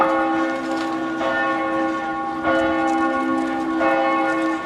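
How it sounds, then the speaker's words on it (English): Church bells in the Netherlands ring in mourning for victims of the Malaysia jetliner disaster, a sustained ringing with fresh strikes about every second or so, moderately loud and alone. "Churches around the country rang their bells for 5 minutes before the planes carrying the bodies landed."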